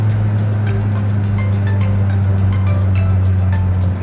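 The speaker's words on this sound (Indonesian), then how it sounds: "Speed 25 gigi 5 masih kuat ngangkat." Steady low drone of a 2009 Daihatsu Xenia engine pulling in fifth gear at low speed and low revs, a constant loud hum with road noise and no pauses.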